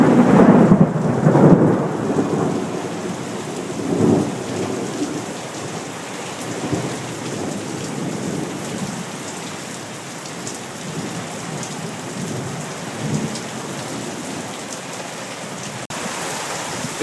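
Thunder rumbles loudly near the start over steady rain pattering on surfaces during a Las Vegas thunderstorm, with further low rolls of thunder fading under the continuous downpour.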